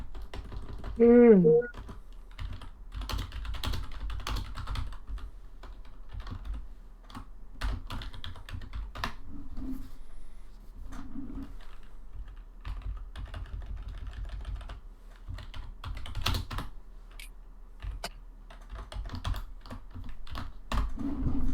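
Someone types on a computer keyboard in a long run of scattered clicks and taps during an online tabletop role-playing session, with occasional faint voices and a brief sung note early on.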